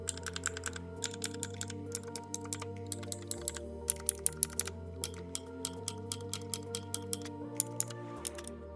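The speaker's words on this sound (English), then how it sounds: "Let's jump into the sound test of this keyboard." Steady typing on a Fantech MK884 Optiluxs optical mechanical keyboard: rapid, crisp clicky keystrokes in quick bursts with short pauses, close and clear over a low background hum.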